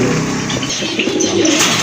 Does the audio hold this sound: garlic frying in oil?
no